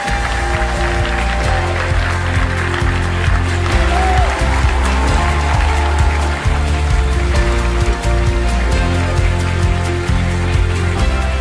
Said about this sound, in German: Jetzt alle zusammen einen riesen großen Applaus für die Gewinner des Hero Awards